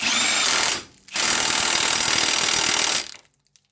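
A powered wrench tightens the axle nut on a 1998 Nissan Sentra, rattling loudly and up close in a short burst, then a longer hammering run of about two seconds before it stops.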